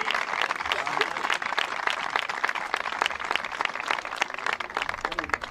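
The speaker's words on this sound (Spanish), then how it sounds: "Fuerte aplauso para todos ellos." Applause for the officials rises at a sports field inauguration in Jarandilla de la Vera, with a crowd clapping steadily and densely, moderately loud, for several seconds.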